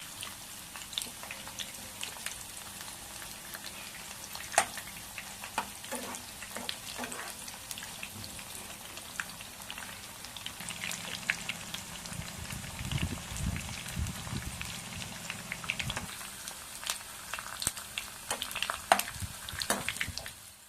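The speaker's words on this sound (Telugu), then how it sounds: "కొంచెం కొంచెం కాకరకాయ ముక్కల్ని వేసుకుని బ్రౌన్ కలర్ వచ్చే వరకు వేయించుకోవాలి" Bitter gourd pieces fry in hot oil in a pan, giving a steady, soft sizzle with scattered popping crackles and occasional stirring scrapes, faint and close, with no talking.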